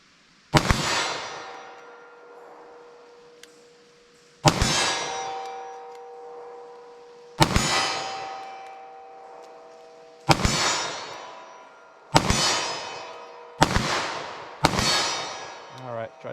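A .40 S&W pistol firing Winchester Defender ammunition: six loud, close shots at uneven intervals, a few quick pairs near the end, each a sharp crack followed by a ringing decay.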